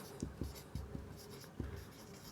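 Chalk or marker writing on a board during a math lesson: a few quiet, scratchy strokes in short irregular bursts, close and faint, with no talking.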